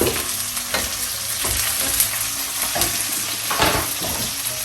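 Small onions and garlic sauté in a hot pan with a steady, close sizzle and crackle. A spoon stirs them with repeated scraping strokes, and faint pan clinks sound throughout.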